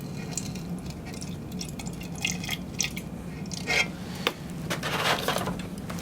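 Vinegar being poured into a measuring cup on a table: soft, close liquid trickling and dripping sounds over a low background hum, with no talking.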